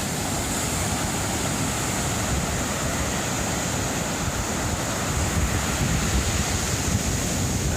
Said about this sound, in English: I think the waves are coming in.